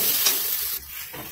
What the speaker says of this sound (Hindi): और अब हम इसमें डाल दे रहे हैं टमाटर, क्योंकि हमारा प्याज और मूंगफली जो है वो भून चुका था